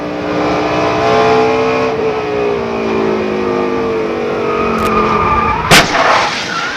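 Onboard a NASCAR stock car at the 2002 Stacker 2 200: the engine roars steadily up close, then a sharp, loud crash impact hits near the end. No one speaks.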